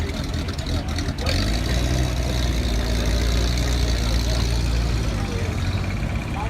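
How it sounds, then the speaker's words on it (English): A vintage truck engine idles at an airshow, a steady low rumble that holds throughout, close and fairly loud, with crowd voices murmuring underneath. "Look at that vintage truck."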